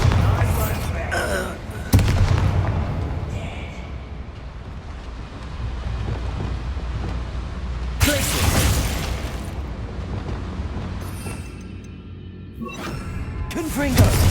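Bombarda explosion spells cast in the Hogwarts Legacy video game, several loud booming blasts with sharp onsets, each trailing off into rumbling noise, amid other battle effects.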